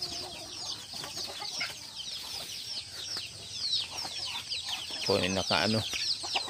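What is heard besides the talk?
chickens clucking at feeding time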